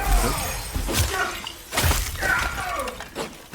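Glass shattering during combat in the video game Soulframe, with several sharp crashing bursts and swishing strikes amid game noise.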